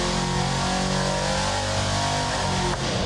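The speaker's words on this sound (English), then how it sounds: "two identical big block Chevys were coupled together and then dynoed together." Two identical big block Chevy engines coupled together run on a dyno, a loud, steady mechanical roar with deep harmonic drone held for a few seconds before a brief dip near the end.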